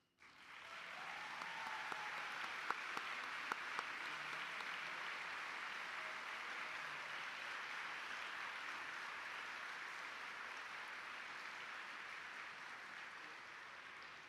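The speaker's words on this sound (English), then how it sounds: "Let's give our nominees one more round of applause." A large audience at an awards luncheon claps for award nominees, a sustained round of applause starting abruptly, staying full and even with a few sharper claps near the start, then tapering slightly at the end.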